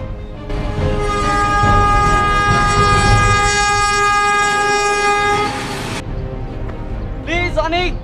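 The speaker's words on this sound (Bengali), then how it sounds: "ট্রেন আসতেছে" A train approaches on a railway line, its horn sounding a long sustained blast over the rumble of the cars, then cutting off as a sharper honk follows near the end; a loud, close pass.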